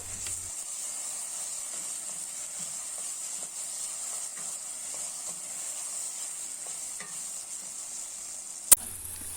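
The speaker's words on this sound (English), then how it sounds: "Then we will add the tomato sauce, stir to get the tasbika we said before." Tomato sauce sizzles in a hot pan while being stirred for a zucchini dish: a steady, fairly quiet hiss with soft scraping touches and one sharp click near the end.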